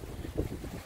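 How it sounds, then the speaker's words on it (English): Wind gusting into a microphone outdoors on Manasota Key, Florida, ahead of approaching thunderstorms: a brief, loud rumbling buffet with one stronger gust in the middle. "sorry if it's kind of windy out here."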